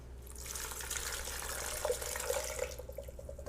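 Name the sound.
warm water being poured into a blender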